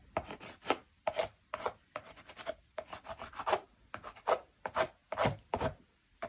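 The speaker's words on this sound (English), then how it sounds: "when you just rub a little bit of soft pastel over, you get this lovely effect going on." Soft pastel rubbed over textured, layered mixed media paper in repeated scratchy strokes, each a short dry rasp with brief pauses between, close and fairly quiet with no talking.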